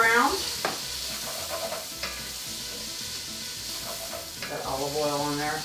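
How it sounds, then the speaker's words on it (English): Garlic and onion sautéing in olive oil in a pan give a steady close sizzle with stirring scrapes, while a voice and another speaker talk over it throughout. "there's nothing like garlic and onion sauteing in a pan"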